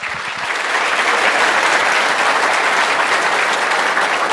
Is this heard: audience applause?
yes